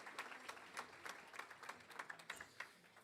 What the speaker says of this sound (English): give our friends at Fresh Ideas a big round of applause